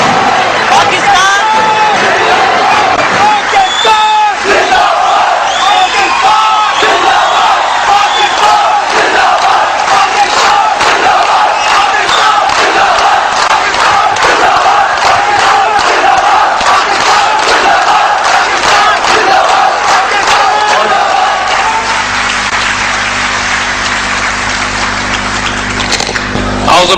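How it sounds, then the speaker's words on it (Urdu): A large crowd at a rally applauds and chants "Pakistan Zindabad" in loud, continuous waves of clapping and shouting that fill the whole stretch. "تالیوں کے ساتھ ساتھ پاکستان زندہ باد میں بھرپور نعرہ پاکستان پاکستان"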